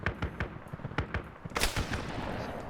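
Gunfire in a Halo ODST cave-clearing op, a run of sharp shots punching through cover, spaced cracks that give way to a louder burst near the middle, fairly close and without talk.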